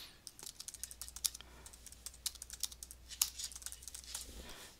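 Comments are typed on a computer keyboard, the keys clicking in quick uneven bursts, close and fairly quiet, with a faint low hum underneath and no voices.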